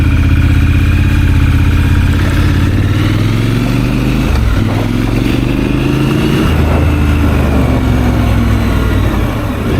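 A Triumph 1200 motorcycle engine runs loud and close while riding off-road over rough ground, a steady droning roar that dips and rises with throttle changes partway through.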